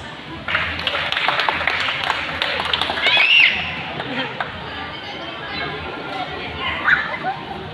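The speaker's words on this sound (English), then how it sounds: "A round of applause, please." A school audience applauds at a United Nations Day celebration, a dense burst of claps with children's voices that builds for a few seconds and then thins into background chatter.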